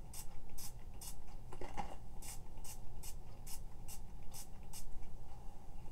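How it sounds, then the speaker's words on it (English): Hair spray bottle misting natural hair, about nine short, crisp spritzes in a steady rhythm, up close over a low room hum. "So I'm going to give it a little bit more spray."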